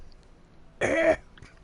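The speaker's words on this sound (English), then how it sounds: "I'm coughing up blood" A man's short, harsh cough, a single burst lasting under half a second, close and fairly loud against a quiet background.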